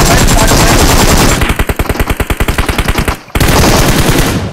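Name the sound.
gunfire in video game PUBG Mobile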